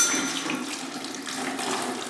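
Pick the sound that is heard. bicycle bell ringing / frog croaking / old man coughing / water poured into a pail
water poured into a pail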